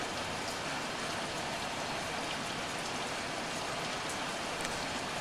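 Rain in the video game Heavy Rain, a steady broadband hiss of falling rain and droplets on surfaces, constant and fairly soft, with no voices.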